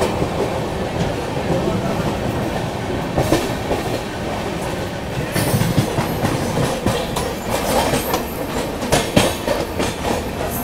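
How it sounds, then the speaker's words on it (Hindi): Steady roar and rhythmic clickety-clack of an Indian Railways express train running on the Delhi to Patna line while another express passes alongside, loud and continuous with surges of wheel and rail noise, no talk. "अवध असम एक्सप्रेस लालगढ़ डिब्रूगढ़, हम उसके आगे निकलने वाले हैं दोस्तों"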